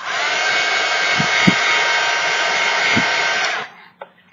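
Heat tool blowing a steady loud whoosh over a painted paper-clip doodle for about three and a half seconds, with a few faint clicks, then switching off.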